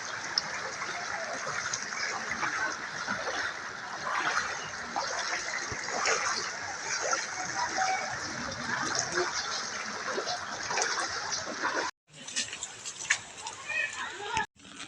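Floodwater flows steadily through a flooded area in Biñan, Laguna during bad weather, deep enough to submerge boots, making a continuous broad wash that cuts out briefly near the end before resuming.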